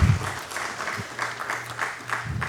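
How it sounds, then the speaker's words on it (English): An evening audience at an art talk by painter Nilima Sheike applauds, a steady wash of many hands clapping, with a low voice murmuring beneath it. "A round of applause, dear audience, for our artist of the evening, artist NILIMA SHEIKE."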